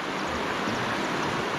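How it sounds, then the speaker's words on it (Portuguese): River water rushes steadily beside a campsite where a vehicle with a rooftop tent is parked: a continuous, close, even hiss of flowing current with no breaks. "o contra é esse barulho da água aqui do lado"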